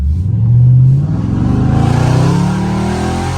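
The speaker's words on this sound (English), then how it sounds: "My car sounds so good on the shifts, bro." A Dodge Scat Pack engine revs up loudly while drifting, pitch climbing, dropping briefly at a gear shift, then climbing again in a strong, steady roar close by.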